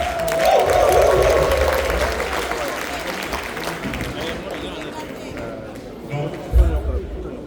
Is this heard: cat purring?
no